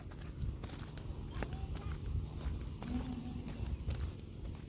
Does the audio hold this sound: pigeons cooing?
no